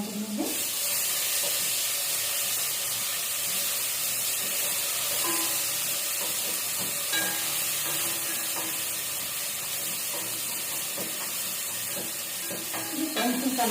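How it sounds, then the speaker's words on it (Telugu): Two tablespoons of ginger garlic paste hit hot oil for a Telugu-style crab curry, producing a steady, loud hiss that holds throughout, with a few faint clinks in the background. "రెండు టేబుల్ స్పూన్ల అల్లం వెల్లుల్లి పేస్ట్ వేస్తున్నాను డైరెక్ట్ ఆయిల్లోనే"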